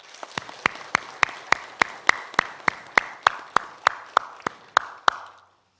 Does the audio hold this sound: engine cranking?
no